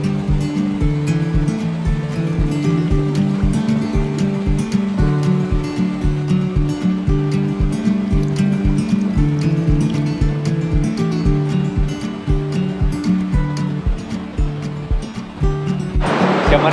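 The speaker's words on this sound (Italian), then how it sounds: "Siamo arrivati, siamo su un ponticello sopra le cascate." Rushing water of the Dardagna waterfalls on the Corno alle Scale, heard from a small footbridge above the falls: a loud, constant roar of churning water throughout, with a brief burst of noise at the very end.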